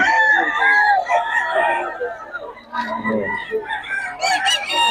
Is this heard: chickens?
yes